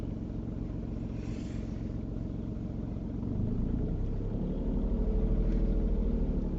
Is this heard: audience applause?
no